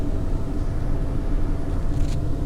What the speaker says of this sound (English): If we put that on, here's our fan speed. We can hear it's on.